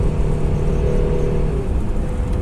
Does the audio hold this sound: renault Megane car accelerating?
yes